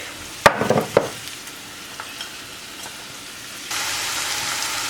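Onions, zucchini and garlic fry in a pan, with a few sharp clatters and stirring bursts at the start, then a quieter sizzle that swells into a steady, brighter hiss near the end.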